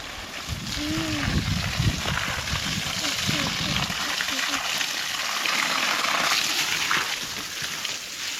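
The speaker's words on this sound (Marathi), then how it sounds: "झाडांना पाणी वगैरे घालतोय." Water gushing and splashing continuously onto the ground beneath young cashew trees in an orchard, heard close and steady, with people talking over it.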